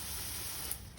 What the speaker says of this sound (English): Spray it that way, and then come back and spray it this way.